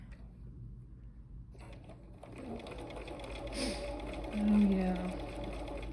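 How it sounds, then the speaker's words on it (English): A sewing machine stitches an improvised quilt basket block, starting after a short quiet pause and running in a steady close whir, with a person briefly speaking over it. "This time I think I'm going to sew the inside first."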